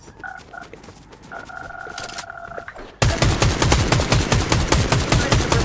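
Video game gunfire: a few scattered shots among electronic beeping tones, then a sustained loud burst of rapid automatic fire with evenly spaced, punchy reports.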